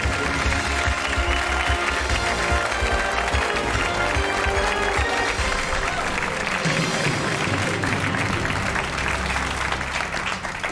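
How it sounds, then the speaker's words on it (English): A studio audience at a celebrity quiz show claps and cheers loudly and continuously, a dense wall of applause with whoops that holds steady the whole time and only eases slightly near the end. "Biggest cheer of the night here in the studio for Daniel O'Donnell and Sinead O'Connor"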